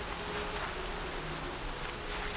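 Steady rain falls in the video game Horizon Zero Dawn, a constant soft hiss of drops on surfaces with no talk, at even, moderate loudness throughout.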